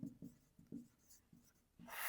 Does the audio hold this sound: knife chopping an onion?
no